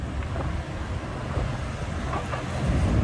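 A BTS SkyTrain on an elevated line in Bangkok rumbles past in a continuous low roar that swells slightly toward the end, heard from street level amid city background noise.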